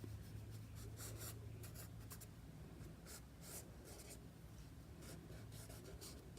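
Pencil on paper for a quick sketch: soft, close scratching in irregular bursts of short and longer strokes, quiet and steady with no talking.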